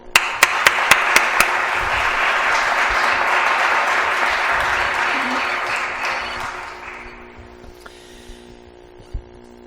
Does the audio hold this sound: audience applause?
yes